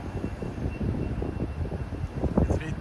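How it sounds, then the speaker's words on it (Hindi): Strong wind roars steadily through dry, swaying trees outdoors, a dense rumbling rush with gusty swells and a faint distant hum, and no clear speech. "हवा देखो आज कितनी तेज चल रही है।"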